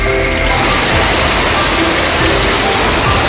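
Heavy water pours down loudly during a typhoon, a dense, continuous roaring rush like a waterfall that fills the whole clip with no letup.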